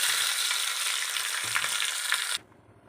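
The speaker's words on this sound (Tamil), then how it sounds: "இல்பக்கரண்டியில் கடுகு போடுறேன். கடுகு வெடிக்கிறது" Mustard seeds crackle and sizzle in hot oil in a small tempering ladle, a dense, steady spatter that runs close and loud for over two seconds before cutting off abruptly to near silence.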